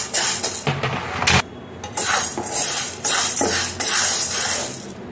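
Sorghum grains dry-fried in a pan, rattling and scraping against the metal as they are stirred, a steady close shuffling with clinks and louder scrapes throughout.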